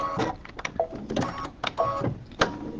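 A sewing machine runs a quarter-inch seam along a fabric edge in short, uneven stop-start bursts of rapid clattering stitches, close by and with no voices.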